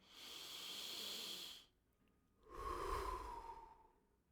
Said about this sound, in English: That's combat breathing. Combat breathing. In through your nose, out through your mouth.